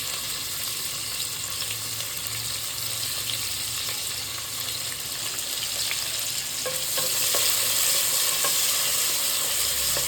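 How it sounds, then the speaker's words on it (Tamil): Sliced onion sautés in a pan for mushroom biryani, a steady crackling sizzle with occasional scraping stirs, close and continuous with no talk. "வெங்காயம் நல்லா வதங்கணும்"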